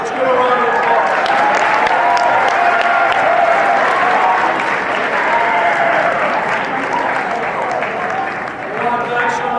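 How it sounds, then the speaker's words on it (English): Loud, continuous applause from a crowd at a Credit for Life school event, a thick wash of clapping held for nearly ten seconds with voices mingled in and a slight dip near the end. "Let's give a round of applause."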